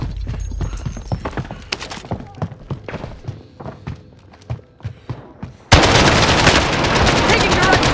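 Video game firefight with sharp, irregular gunshot bursts and thuds over several seconds, then a sudden dense, loud burst of sustained fire near the end.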